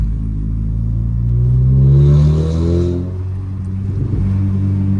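A 2010 Toyota Corolla fitted with a full 304 stainless DPW exhaust diffuser revs hard, its loud deep engine rumble swelling to a peak around the middle before easing back, close and continuous.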